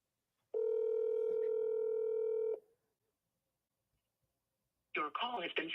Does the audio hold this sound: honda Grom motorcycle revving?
no